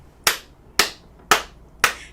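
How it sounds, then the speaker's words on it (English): Children clapping their hands and stomping their feet during a bear-themed storytime goodbye song, four sharp, evenly spaced claps about half a second apart, close and clear with no talk over them. "We clap our hands and stomp our feet again."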